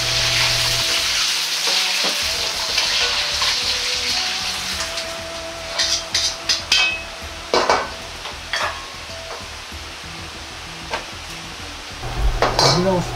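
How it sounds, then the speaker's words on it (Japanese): Green peppers drop into hot oil in a wok and deep-fry with a loud bubbling sizzle, punctuated by repeated clattering stirs and scrapes of utensils against the pan, with no voices. "そうしたら油の温度を少し上げていき、ピーマンを油で落とします。"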